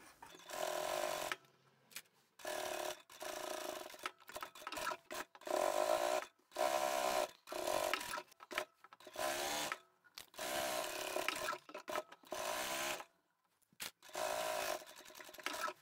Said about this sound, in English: So all I'm doing is sewing that really close to the edge.